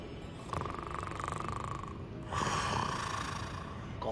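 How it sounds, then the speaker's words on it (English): A goblin banker in the video game Hogwarts Legacy snores in two slow, rasping breaths, each lasting a couple of seconds, moderately loud against low game ambience. "Goblin banker snoring."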